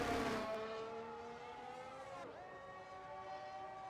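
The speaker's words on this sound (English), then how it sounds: "Burning fuel, as you can hear, revving the engine." An F1 car engine in the F1 23 video game on the Australia circuit revs high and steady, its harmonic whine sweeping down and back up through a gear change, fairly faint and alone.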